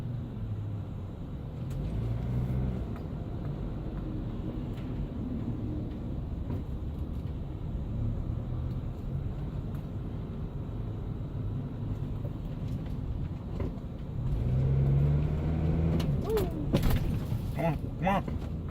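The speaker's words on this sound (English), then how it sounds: "Oh God, I love city traffic." City traffic is heard from inside a moving vehicle as a steady low rumble of engines and road noise, with a swell of passing vehicles near the end.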